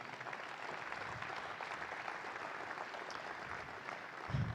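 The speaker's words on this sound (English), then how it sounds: "Give them a round of applause, please." Sustained audience applause during a mayor's State of the City address, a steady dense roar of many hands clapping at moderate distance, unbroken for the whole stretch.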